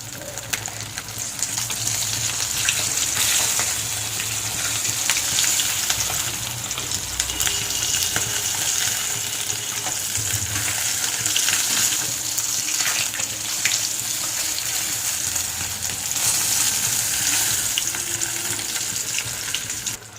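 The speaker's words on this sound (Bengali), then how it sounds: "মাছগুলো আমি উল্টে নেব" Koi fish sizzling in hot oil after being flipped, a constant, even hiss that carries through the whole stretch with no talk.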